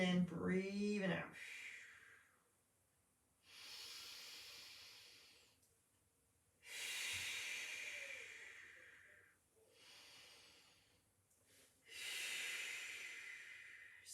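A Pilates instructor breathes loudly during an exercise, with long hissing exhales in several separate bursts a few seconds apart, close and clear, and a brief squeaky, voice-like sound at the start.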